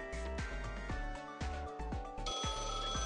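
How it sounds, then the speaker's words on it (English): A phone rings in the Blue Archive video game, a musical ringtone with repeated tonal bursts over busy game music, loud and steady through the whole stretch. "Phone call already?"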